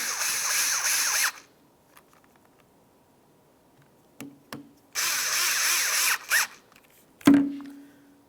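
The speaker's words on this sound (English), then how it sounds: "Now we can insert our two T10 screws." Two T10 screws driven into a passenger door lock actuator on a 2000-2005 Buick LeSabre, heard as two bursts of a small power driver whirring, each a second or so long, separated by quiet handling clicks and a sharp knock near the end.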